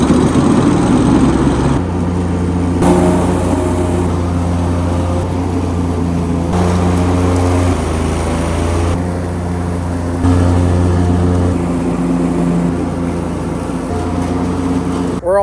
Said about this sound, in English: so we're gonna use a lawnmower.